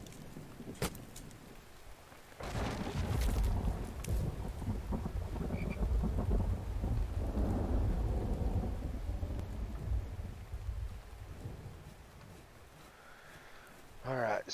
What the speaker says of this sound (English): yep, see, there's the rain.